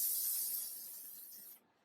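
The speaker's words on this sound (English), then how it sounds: "We cannot finish a long wear waterproof makeup without Infallible 3-second setting spray." L'Oréal Infallible 3-second setting spray misted onto a made-up face, one continuous close hiss that fades slightly before cutting off sharply.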